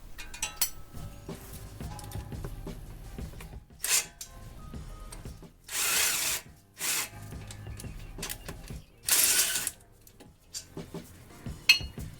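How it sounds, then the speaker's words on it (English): Tools work on brake caliper bracket bolts of a Nissan Sentra during a brake job, with scattered metallic clinks and clicks punctuated by several loud, harsh bursts of a second or so, close by and without speech. "it's going to take a little bit of force to get those loosened, both top and bottom caliper bracket bolts"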